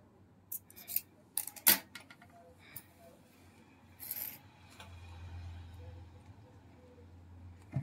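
Scissors snip through lace for sewing in a few quick, close cuts, with sharp clicks of the blades and soft rustling of fabric between them, no talking.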